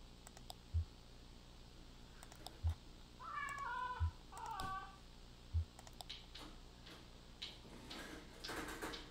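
A cat meows in the video game Kentucky Route Zero, a short run of rising-and-falling calls in the middle, set over a quiet game ambience with sparse soft clicks.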